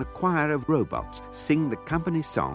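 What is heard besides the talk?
No everyday noise stands out behind the speech.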